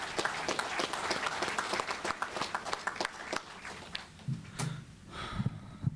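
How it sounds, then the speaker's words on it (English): Applause breaks out at an introductory press conference for a new coach. Dense clapping fills the room at first, then thins to scattered claps and a few shuffling noises. "I'd love to say and give a round of applause to Coach Scott Cross, his wife Jennifer, their boys Austin, Tyler"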